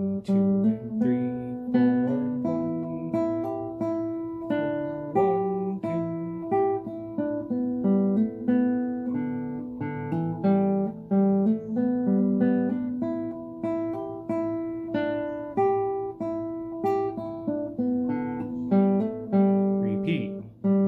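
Guitar piece with hammer-ons, played from an FJH method book as a steady stream of plucked notes and slurred hammer-ons in an even rhythm, close-miked and continuous for about twenty seconds without speech.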